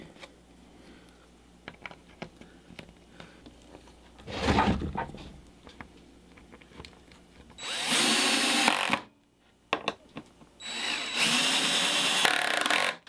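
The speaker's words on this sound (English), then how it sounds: "I'm going to go ahead and put all the screws into the pilot holes" A power drill drives screws through pilot holes into scrap wood planks for a shield. It gives a short whir and then two long, loud bursts of motor whine separated by a brief pause, with some handling knocks.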